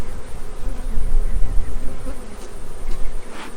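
Honey bees swarm around an open hive while a nuc is being started, making a dense, loud, continuous buzzing close by with some low rumbling handling noise underneath.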